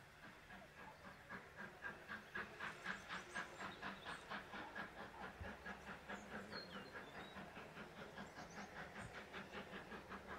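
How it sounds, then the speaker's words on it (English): Steam locomotive 63395 hauling a demonstration freight train past Goathland station, with rhythmic chuffing beats that grow louder and then hold steady, plus hiss and wheel clatter, heard from a distance and fairly faint. "63395 is hauling the demonstration freight train, passing Goathling station once again."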